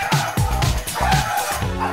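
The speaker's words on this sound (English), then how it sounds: "one pup goes a bit potty over flushing" A dog barks and yips excitedly at a flushing toilet in quick, loud bursts, close by, with whining tones between the barks.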